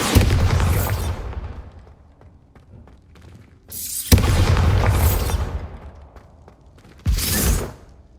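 Repeated Bombarda blasting spell explosions in Hogwarts Legacy, three heavy booms spaced a few seconds apart, each bursting loudly and decaying into rumbling debris.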